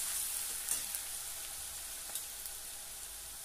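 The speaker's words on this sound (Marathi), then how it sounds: "थोडं परतून घेऊया. एकदम पण खूप जाळायचं नाही याला. अगदी 1 मिनिट भरच परतूया." Chopped green chillies sauté in a hot pan for a fenugreek (methi) curry, producing a steady, soft sizzle with occasional light pops and no speech.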